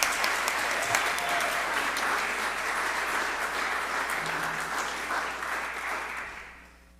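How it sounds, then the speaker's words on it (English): Sustained applause from a congregation at a Sunday service, a dense, even wash of clapping that holds steady for several seconds before fading out at the end. "please join me in giving them a big round of applause"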